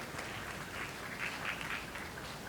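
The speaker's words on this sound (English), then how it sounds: "Another round of applause for the mother of the groom." A wedding reception crowd at the Rusty Pelican applauds the groom's mother, a steady, diffuse wash of clapping heard at moderate distance and fairly soft, with no speech.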